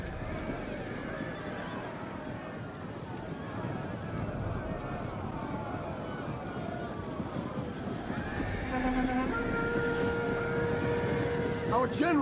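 Horses neighing and whinnying amid a Total War: Rome 2 battle, with hooves clip-clopping and a dense background of clashing combat noise, fairly loud and continuous throughout.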